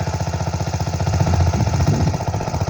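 A small water pump engine chugs away while draining a fish pond, a loud, close, rapid and steady knocking beat with no voices over it.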